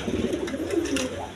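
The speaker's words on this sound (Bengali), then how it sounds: "একদম ফ্রেশ কবুতর আল্লাহর রহমতে।" Pigeons at a pigeon farm stocked with high-flying and red Gola birds, cooing in low, overlapping murmurs that run steadily through the short moment, fairly close.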